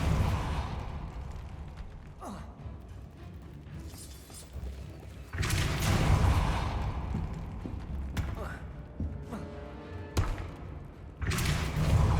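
Depulso spells cast in Hogwarts Legacy land as a series of heavy thumps and bursts, a few sharp impacts spaced across the clip, with game ambience and a voice in the background.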